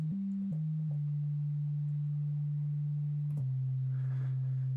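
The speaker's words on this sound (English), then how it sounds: "We have the sine wave." A pure sine wave drone from a Bitwig Grid synthesizer holds steady on a low note, stepping briefly between a few nearby pitches before settling into a long sustained tone, clean and alone.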